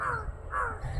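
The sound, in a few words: crows cawing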